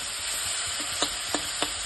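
Leafy greens frying in a pan with garlic and dried chili, a steady close hiss with a few sharp scraping stirs at regular intervals.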